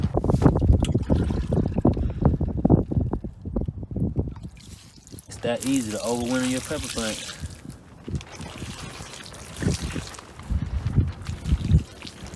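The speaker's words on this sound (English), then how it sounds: "Now it's time to water." Water splashes and pours steadily over potted pepper plants being overwintered in a greenhouse, with a voice speaking midway before the pouring resumes more softly.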